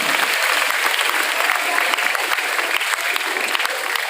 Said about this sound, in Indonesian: Tepuk tangan untuk Ustaz Azmi